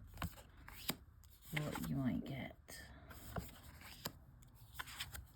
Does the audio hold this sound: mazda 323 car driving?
no